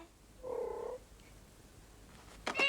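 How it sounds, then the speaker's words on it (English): A cat purrs in a Soviet fairy-tale film, a short, soft rumbling hum that swells briefly and then fades, followed by a faint sharp rustle near the end. "That's a cute cat though."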